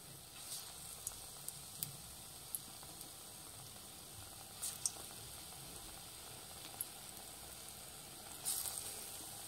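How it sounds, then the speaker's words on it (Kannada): Raw banana bajji fry in oil over a low flame, a soft, steady sizzle with occasional light pops and crackles, close by and with no talking. "ಲೋ ಫ್ಲೇಮಲ್ಲಿ ಇಡಿ ಬಜ್ಜಿ ಹಾಕಬೇಕಾದ್ರೆ"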